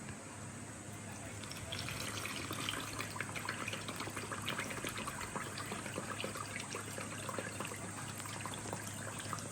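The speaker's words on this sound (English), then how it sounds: "I'm gonna go ahead and put the water in there." Filtered bottled water pours steadily into a spray bottle for a homemade citric acid rust and calcium cleaner, a continuous close trickling splash that fills out slightly after the first seconds.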